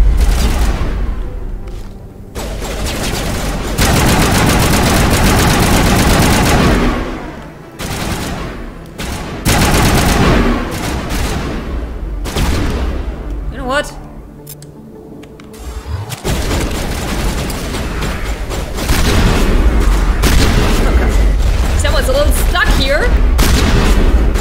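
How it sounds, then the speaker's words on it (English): Heavy gunfire and booming blasts in Mass Effect Legendary Edition, loud bursts of shots and explosions repeating through most of the stretch with short lulls, while a player talks over the combat. "Why did they shoot at me?"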